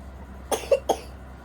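Three short coughs in quick succession, close and fairly loud, over a quiet background.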